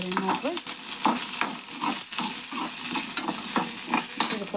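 Onions sizzle and fry in hot oil for a chicken gravy, with steady crackling and rhythmic stirring scrapes in the pan, close and continuous with no voices.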